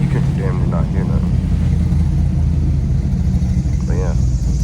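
Closed-valve exhaust of a 2010 Ford Mustang GT with a slight exhaust leak, a steady low rumble droning throughout while driving, with someone talking over it at times.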